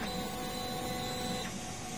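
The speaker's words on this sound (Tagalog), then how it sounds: "Head clean, sabay checking kung naglalapat ang cupping at ang printer head natin." A DTF printer runs a head clean cycle, giving a steady, continuous mechanical hum and whir at close range with no pauses and no voices.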